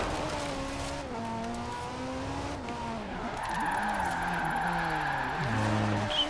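A car drifts under handbrake in Forza Horizon 4, its engine droning and shifting pitch as tires squeal through the slide, holding steady and then rising near the end, with faint speech in the background.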